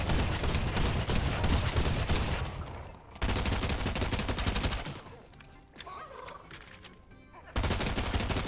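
Submachine gun fire in a video game, loud rapid bursts with brief gaps between them and no talk.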